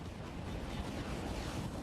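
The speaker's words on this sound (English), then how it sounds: "That's what those bombs, those purple, those purple egg bombs sound like." Purple egg bombs exploding in Sonic Heroes give a dense, continuous low rumbling roar that holds at a steady, fairly quiet level throughout, with no speech.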